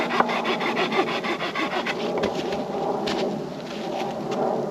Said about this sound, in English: take a mini saw, you can cut the excess off